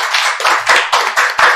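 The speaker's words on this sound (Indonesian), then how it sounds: "Bu, kasih tepuk tangan dong." A small group of hands claps in a short burst of separate, slightly uneven slaps after a host's prompt during a faith-themed talk show, close and fairly loud for under two seconds.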